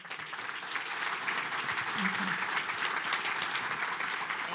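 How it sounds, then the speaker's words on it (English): Steady applause from an audience at a lunch event, a dense wash of clapping that holds at an even level throughout. "One more round of applause for Fred."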